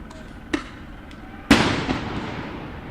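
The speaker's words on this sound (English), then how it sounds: "Ooh, fireworks going in." Fireworks go off at a Los Angeles street protest: a couple of sharp small pops, then a loud close bang with a crackling tail, over rumbling outdoor background noise.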